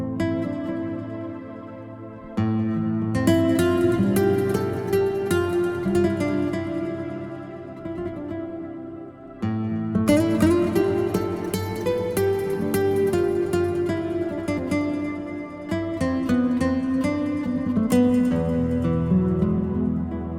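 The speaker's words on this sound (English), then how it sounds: "There's some beautiful articulations in that guitar." Sampled guitar with fine articulations played from a keyboard over a sustained ambient pad, a continuous melodic passage with full chords and plucked notes, loud and close, with no talking.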